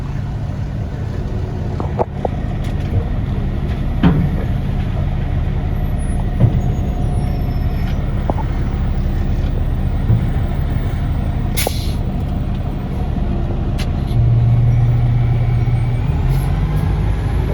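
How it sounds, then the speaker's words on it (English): A dump truck hauling asphalt idles with a steady diesel rumble while its bed is raised and the brake released, unloading at a paver, with occasional clanks and a brief hiss of air. "Now I have my bed all the way up in the air and I'm completely off the brake."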